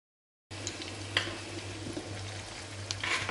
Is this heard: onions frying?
yes